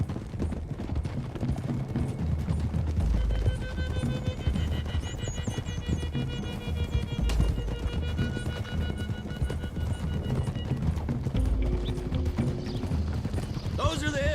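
Several horses gallop along a road toward the hills in Red Dead Redemption 2, their hooves drumming in a dense, continuous clip-clop with occasional snorts and whinnies, close and loud under a voice.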